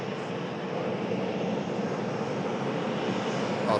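A KLM Boeing 737 jet airliner taxiing toward the departure runway, a steady distant engine roar and whine that holds at an even level throughout, with no talking.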